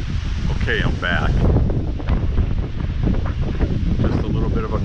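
Gusty thunderstorm wind from a gust front roars steadily into the microphone, with rumbling buffeting throughout and brief chirps of birds or voices near the start.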